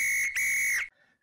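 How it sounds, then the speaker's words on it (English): A referee's whistle ending a GAA match, one loud, shrill blast with a brief break near the start, then cut off abruptly into quiet. "the referee blows the final whistle here."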